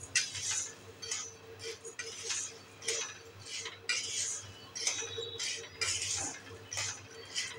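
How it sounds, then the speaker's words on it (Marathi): Brown chickpeas and green moong dry-roasting in a kadhai over a low flame while a spatula stirs them constantly, giving close, repeated scraping and clinking strokes in a steady rhythm with no talk. "हे पूर्ण असं सारखं आपण इथे कालथ्याने हलवत राहायचं आहे।"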